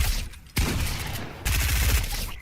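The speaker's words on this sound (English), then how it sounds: "just kind of flick around with a shotgun and just kind of go again hip fire with SMG" Shotgun blasts and rapid SMG hip fire in a zombies video game, dense overlapping gunfire in two loud bursts with sharp onsets, close and continuous, no speech.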